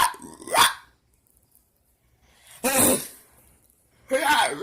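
A person's voice makes strange strained growling, barking noises imitating a dying dog, three separate loud bursts separated by near-silent pauses.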